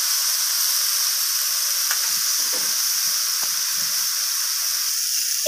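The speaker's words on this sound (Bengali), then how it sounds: "শাকটাকে এইভাবে আমি সব কিছুর সাথে নাড়াচাড়া করে ভেজে নিচ্ছি" Radish greens fry in a pan with a steady, bright sizzle and hiss, while occasional soft scrapes of stirring come through, close and continuous.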